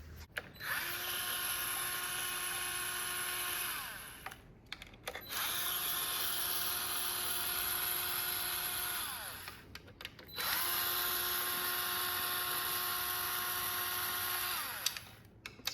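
A power screwdriver whirs in three sustained bursts separated by brief pauses, backing screws out of the plastic cover of a Lowrance Ghost trolling motor head, close and fairly quiet.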